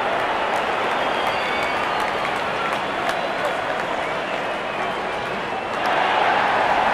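A cricket crowd applauds a batsman's double hundred, sustained dense clapping that fills the whole stretch, swells again near the end and has faint voices blended in.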